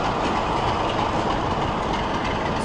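East Lancashire Railway train running along the track near Burrs Country Park, a steady loud rumble of wheels and carriage noise heard from on board, continuous throughout.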